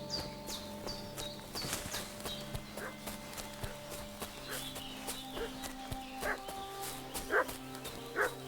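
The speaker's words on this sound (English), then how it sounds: "What's that dog making such a fuss about?" A dog in Kingdom Come: Deliverance II barks in scattered bursts over game ambience, with hoof clip-clop, a faint music drone and distant yelps.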